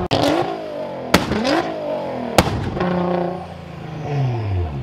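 A Nissan GT-R revving hard at a local car meet: loud, close engine roars rising and falling, with sharp exhaust bangs between revs.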